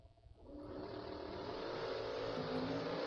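Drag race launch from a 1979 Fairmont and a 2002 S10: a loud, sustained engine roar swells in after a brief quieter start and holds steady, broadband and close, with no talk over it.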